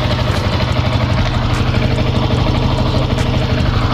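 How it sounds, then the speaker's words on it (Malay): A Yamaha Y15ZR motorcycle engine idles close by after an oil filter change, a steady, even low thrum with a light mechanical clatter and no talk. "Oh, bunyi enjin pun slow bro."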